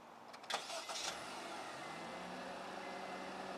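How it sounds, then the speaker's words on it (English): A car engine cranks over and catches, a short burst of starter noise settling into a quiet, steady idle, fairly faint and without talk. "Turn the car on first, maybe that'll help."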